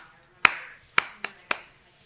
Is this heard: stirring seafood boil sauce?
no